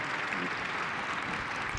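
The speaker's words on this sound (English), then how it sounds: "Everyone, please give a huge round of applause for Tom Mueller." Applause for Tom Mueller, CEO of Impulse Space, fills a conference hall at the Satellite 2025 opening session, a continuous, even roar of many hands clapping throughout.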